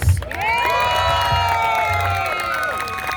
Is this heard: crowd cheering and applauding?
yes